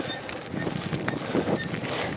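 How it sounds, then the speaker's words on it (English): Steady, loud wind roar buffets the microphone throughout while a gravel bike is ridden into a headwind on Weir Road near Fayetteville, Arkansas, with no clear talking. "That wind makes a difference for real."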